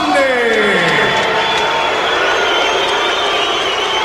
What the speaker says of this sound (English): he hears the boos out here in the crowd